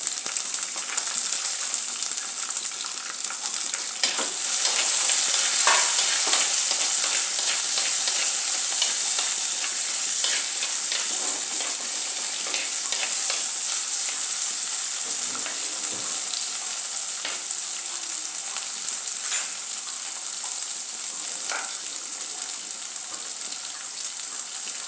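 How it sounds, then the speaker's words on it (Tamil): Onions sautéed in a pan for moringa leaf soup hiss in a dense, loud sizzle that carries on unbroken, with occasional soft stirring scrapes and no talking. "அப்புறம் வெங்காயத்தை போட்டு வதக்கிக்கணும்."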